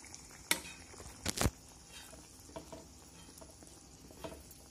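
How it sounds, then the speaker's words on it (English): Capsicum jhunka gravy stirred in a pan, with a few loud scraping knocks of the spoon against the pan followed by softer stirring scrapes and a faint sizzle, close by. "give it a good stir"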